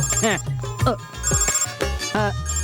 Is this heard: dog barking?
no